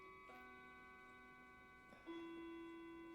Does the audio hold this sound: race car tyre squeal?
no